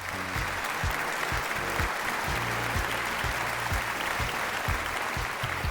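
A studio audience at a televised singing-competition gala round breaks into full, steady applause, a dense continuous wash of clapping with a low musical backing underneath throughout.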